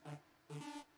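A Hoover synth lead in a big-room techno track plays two short, thick, buzzy notes with rich harmonics, separated by a brief gap and heard alone.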